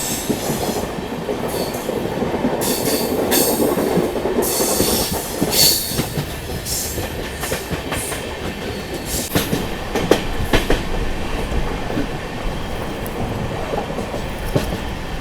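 LTT Mumbai–Bhopal superfast express climbing the ghat section out of Kasara with three banker locomotives pushing at the rear, a steady loud rumble of rolling wagons with wheel clatter and occasional sharp squeals, no voices.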